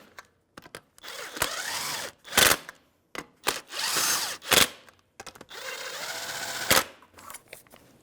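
Lug nuts on a 1997–2006 Jeep Wrangler wheel being snugged with a 19mm socket on a power tool, a series of loud rattling impact bursts of uneven length separated by short pauses, close up.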